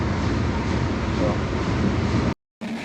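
Steady loud rumble and rattle inside a moving train at night, a continuous dense roar that drops to brief silence near the end before resuming.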